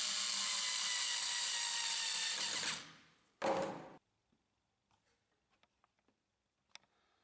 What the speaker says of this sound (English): Reinstall the screws of the board.